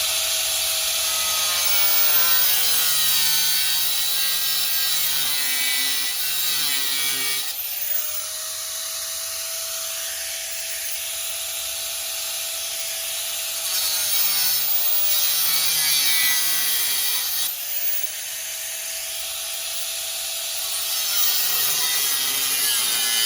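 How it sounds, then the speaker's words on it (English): A power saw cuts out a rusted section of a Jeep body panel, a harsh grinding buzz running in long steady passes with brief pauses between, close and loud. "I think I'm gonna go ahead and cut this piece out right here"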